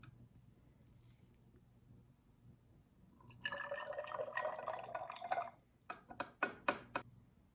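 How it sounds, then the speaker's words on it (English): Ammonium chloride solution poured into a glass graduated cylinder: a quiet room, then a bright splashing, trickling pour for a couple of seconds followed by several distinct drips and small splashes. "I will now add the solution back into the graduated cylinder"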